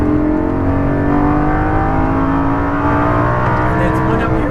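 An exotic sports car on a race track accelerates hard, its engine roaring loud and close with a steadily rising pitch as it gathers speed, while an instructor's voice talks over it.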